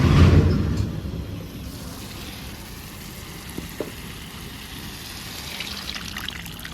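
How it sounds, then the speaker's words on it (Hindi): Blended dal for Amritsari dal makhani poured into a hot pan of cooked spices and ghee, starting with a loud splashing sizzle that settles into a steady low bubbling hiss with a few faint clinks. "अब डालेंगे इसमें फटाफट दाल जो हमने घोट के रखी थी"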